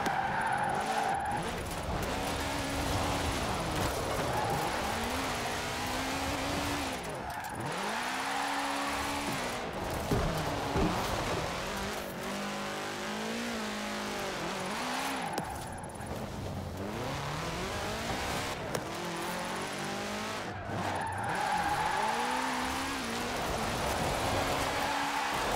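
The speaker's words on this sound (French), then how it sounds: "On va essayer d'aller voir au niveau du drift." A car drifts in the Forza Horizon 4 video game, its engine revving and whining without a break while the tires skid and squeal over and over, loud and close throughout.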